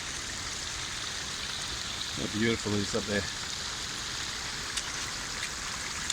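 A waterfall on rock steps at Kariong Brook Falls rushes in a steady, broadband wash of flowing water throughout, while a person speaks briefly over it.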